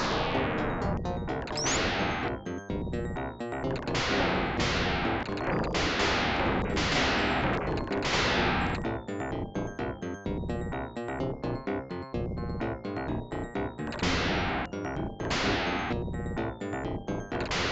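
Turrets fire in the Sega Mega Drive shooter Twin Hawk, producing repeated blasting bursts about every two seconds, each fading out, over busy retro game sound.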